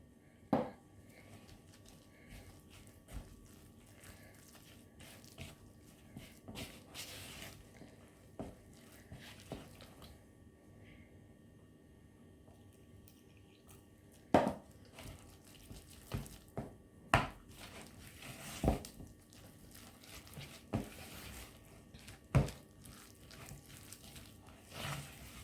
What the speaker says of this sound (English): Mix well. Make sure the bottom of your dish is fully incorporated as well with the batter.